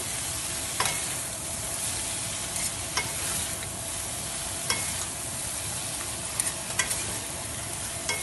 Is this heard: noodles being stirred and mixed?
yes